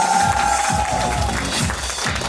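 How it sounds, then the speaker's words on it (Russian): An audience applauds at a kindergarten graduation, with steady, lively clapping throughout and a voice speaking over it. "Встречайте бурными аплодисментами выпуск 2024"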